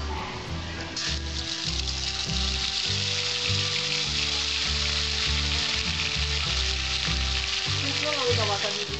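White cumin seeds sizzle in hot oil, a dense, continuous crackling hiss held steady throughout beneath loud background music, while tempering a Bengali-style boal fish curry.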